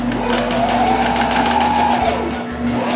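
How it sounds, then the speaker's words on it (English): A sewing machine stitches the notches of a fitted fabric face mask closed, one steady whirring run close by with no talking. "So the first step is to sew the notches closed."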